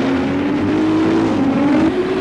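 Touring cars race at the 1986 Wellington 500 at Pukekohe, engines droning loud and steady throughout with a sustained high whine, no voices.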